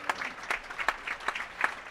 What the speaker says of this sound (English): let's give a big round of applause to all these kids.